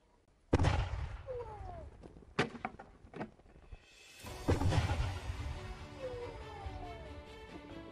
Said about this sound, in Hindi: मैं अभी इसको ब्लास्ट करने वाला हूँ